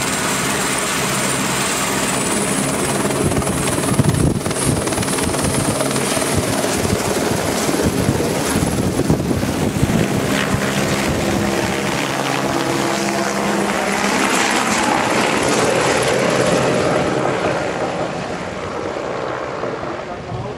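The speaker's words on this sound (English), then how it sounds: "SA-315 Llama is a light multi-role helicopter." Aerospatiale SA-315 Llama light multi-role helicopter in flight near the Eiger north face by Grindelwald, a loud, steady close-up rotor and turbine drone that holds evenly before easing slightly toward the end.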